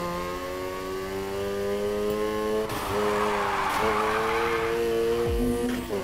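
A car drifts with skidding, squealing tires in the racing game Need for Speed Heat. A steady engine drone with harmonic revving runs throughout, and a broad tire-screech wash swells around the middle and lingers close and loud.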